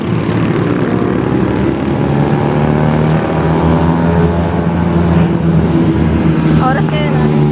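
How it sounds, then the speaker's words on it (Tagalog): Dense street traffic at night in Alaminos after New Year, with engines droning steadily and continuously up close, a horn-like tone rising near the end, and people talking throughout. "Ang ingay talaga ng mga sasakyan kaya."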